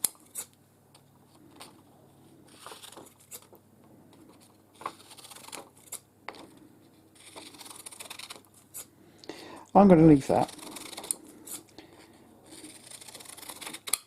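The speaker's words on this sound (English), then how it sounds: "I mean, it's cutting that paper nicely." Restored Compton tailor's shears snip through paper in a short burst of crisp cutting strokes, heard close amid quiet clicks and handling, with a person speaking softly.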